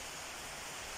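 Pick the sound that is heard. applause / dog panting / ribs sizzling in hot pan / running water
running water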